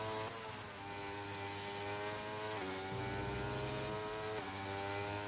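Race car engine at full throttle in a racing video game, a steady loud harmonic drone with pitch drops and rises as the car downshifts, running continuously without talk.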